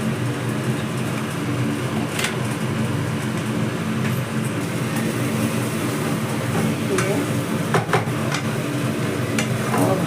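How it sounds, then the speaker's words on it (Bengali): Grated amla (Indian gooseberry) being stirred in ghee with salt and black salt in a pan for chyawanprash: a close, steady sizzle with intermittent scraping clicks of the spoon against the pan. "আর খুব সুন্দর ঘিয়ের মধ্যে এটা নাড়া হচ্ছে"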